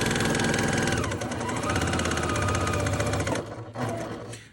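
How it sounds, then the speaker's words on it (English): A sewing machine stitches quilt fabric at a short stitch length, a steady rapid mechanical whir and chatter running continuously before slowing and stopping near the end. "I'm using a shorter stitch length on my machine, quite a bit shorter"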